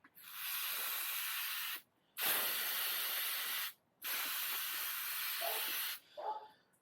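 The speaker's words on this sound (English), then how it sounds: "I will need to degrease this, and the best way to do that is with carb cleaner." Carb cleaner sprays from an aerosol can onto a mountain bike part to degrease it, three long loud hissing bursts separated by brief pauses, with faint handling noise after the last.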